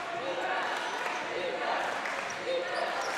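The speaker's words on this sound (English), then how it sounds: "As you hear the crowd getting into it on Dream City's side." Crowd at a high school basketball championship game between Prolific Prep and Dream City Christian cheering for Dream City late in the game, a steady roar of many voices with a commentator talking over it.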